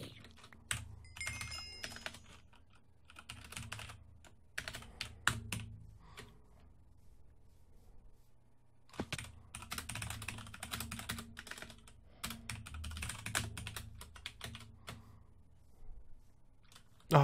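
Rapid clattering keystrokes on a new computer keyboard, close and crisp, come in busy bursts with a short quiet pause midway before typing resumes steadily.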